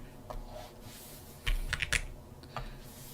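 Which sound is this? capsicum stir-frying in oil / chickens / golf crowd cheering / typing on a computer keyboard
typing on a computer keyboard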